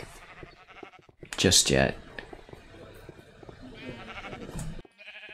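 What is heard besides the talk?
sheep bleating in Minecraft (video game)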